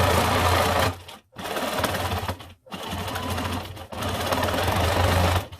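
A sewing machine stitches a ruffled pillow made from recycled curtain fabric, running loud and fast in three long bursts separated by brief silent stops.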